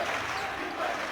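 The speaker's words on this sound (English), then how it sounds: "Great environment, great crowd, packed house." Crowd noise filling a packed gym during a boys' high school basketball playoff game between North Andover and Xaverian Brothers, a steady diffuse murmur of many voices with no distinct cheers in the short excerpt.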